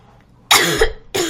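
A person coughs twice, sharp and close, with a short gap between bursts, from insecticide spray hanging in the air indoors.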